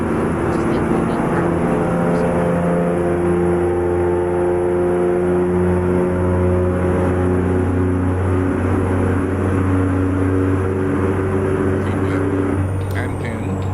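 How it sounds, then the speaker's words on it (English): A modded Caterpillar 3406 diesel truck engine in American Truck Simulator drones loudly and steadily at a deep, even pitch. Its layered harmonic hum fills the whole stretch, and the engine sits up close without pause. "I do have the engine modded on this, which is why it's so damn loud"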